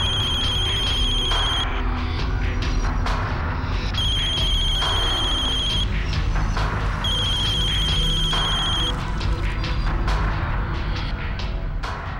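A telephone rings in three long electronic trills with pauses between, heard over a dense, noisy background of clatter and rumble.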